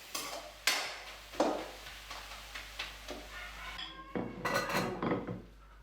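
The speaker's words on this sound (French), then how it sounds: "Je rajoute un peu de poudre de curry rouge et je vais le faire mijoter pendant 15 minutes." Red curry in a pot being stirred as it simmers, with a spoon knocking and scraping against the pot in scattered strokes over a low steady hum, no voices.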